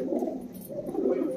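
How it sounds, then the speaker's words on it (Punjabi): Pigeons kept by a fancier coo in a short, continuous low rolling burble, close and moderately loud. "ਬਹੁਤ ਟੋਪ ਦੇ ਕਬੂਤਰ ਆ"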